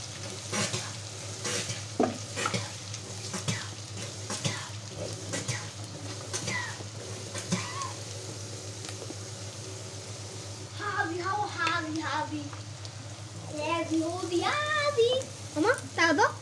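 Dried ribbonfish shutki being sautéed with onion and garlic in a pan, a steady sizzle and fry under repeated stirring and scraping, with bursts of voices talking toward the end.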